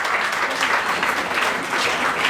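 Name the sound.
applause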